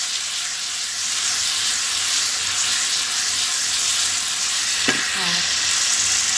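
Spice masala for chicken biryani fries in a pan with a steady, loud sizzle and a brief clatter of stirring partway through.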